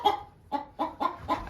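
A hen in a coop clucks five times in short, close, uneven bursts, sounding agitated and displeased.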